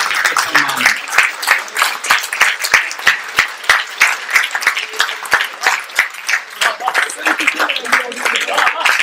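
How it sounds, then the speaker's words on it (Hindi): A crowd at a poetry gathering claps loudly in a steady, rhythmic unison beat, sharp repeated hand claps continuing for several seconds with voices faintly mixed in. "एक जोरदार तालियां तमाम स्वतंत्रता सेनानियों के सम्मान में।"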